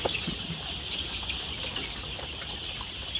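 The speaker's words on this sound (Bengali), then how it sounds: "আপনারা দেখতে পাচ্ছেন মুরগির বাচ্চাগুলো এখনো ছোট আছে" Young chicks in a poultry farm shed chirp in a dense, continuous chorus of high peeps, moderately faint and steady throughout with no talk.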